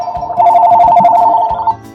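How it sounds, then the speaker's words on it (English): Restaurant telephone ringing with an incoming online order, a steady electronic ring tone sustained for over a second with faint low thumps around it, fairly loud and close. "the phone from the restaurant is going to ring"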